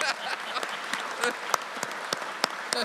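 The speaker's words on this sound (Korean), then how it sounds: "박수 한번 해야지." Applause from an audience at a Korean government ministry briefing, a sustained patter of many hands clapping with sharper individual claps standing out, moderately close, with faint voices underneath.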